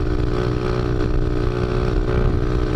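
A motorcycle engine drones loud and steady at high revs while the bike holds a 60 mph wheelie through an entire corner, a close, sustained buzzing roar with no talking.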